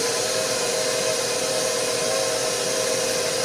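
Electric mixer running at a higher speed through thick dough-like batter, a steady loud whirring motor drone with no pauses and no talk.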